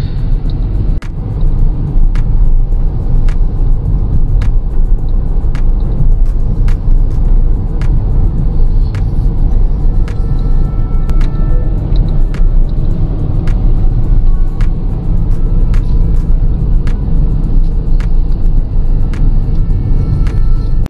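Steady, loud car engine hum and road rumble while driving a long highway route through the forested Western Ghats between Bangalore and Goa on rough roads, continuous throughout with faint ticking over the drone.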